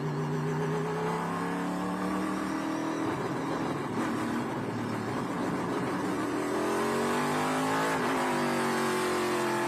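A Trans Am TA-class race car at Canadian Tire Motorsport Park roars continuously from on board, loud and close, its pitch rising and falling as the engine revs through gear changes.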